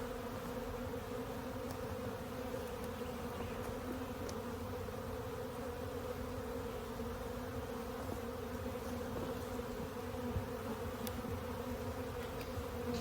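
A dense, steady buzz of many bees hums continuously at close range, with no voices.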